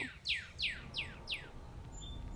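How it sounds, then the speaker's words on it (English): A bird repeats five quick, bright, descending chirps in an even rhythm. The call sounds fairly faint and slightly distant over soft background hiss, with a higher whistle near the end. "I hear one bird on this side and then that side, and it's like echoing."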